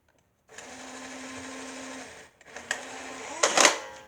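A Nerf blaster is reloaded with a long steady mechanical whir, then a brief gap and a few sharp plastic clacks and rattles at close range.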